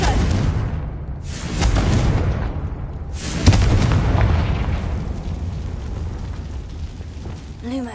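Confringo fire spell explosions in the Hogwarts Legacy video game: three loud, booming blasts a second or two apart, each trailing into a rumbling, crackling tail.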